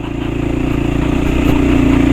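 A light motorcycle engine putters steadily close up on a rough road, its rhythmic throb joined by clattering bumps as it rolls over uneven ground.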